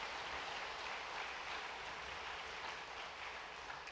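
Congregation applauding during a Sunday church service in encouragement of a bereaved family, a steady, dense wash of many hands clapping at moderate distance, even and sustained throughout.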